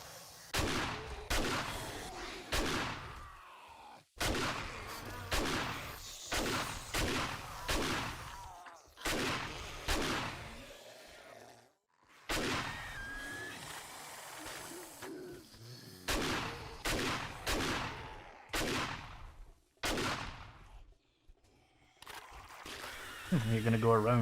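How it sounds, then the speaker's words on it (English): Shotgun blasts from the survival video game 7 Days to Die ring out in rapid, sharp repeated volleys, loud and close, with brief pauses between bursts and a short electronic tone at the end. "Shotgun time."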